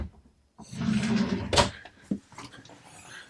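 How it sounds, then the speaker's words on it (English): Large storage drawers beneath the master bed of a 2015 Tiara 4500 Sovran boat being handled, giving a close sliding rumble and a sharp knock, followed by a softer thud. "in our master, we have 2 storage drawers that are very large down below the bed."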